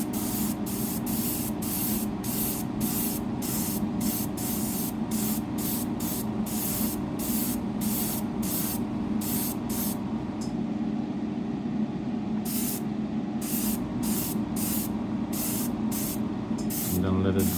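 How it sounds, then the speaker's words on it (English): Short repeated bursts of aerosol spray varnish hit a painted Amazon Princess miniature, about a dozen hissing blasts in an irregular rhythm. A brief pause comes near the middle, and a low steady background hum sits underneath. "I'm gonna hit it with a transparent layer, so varnish, right?"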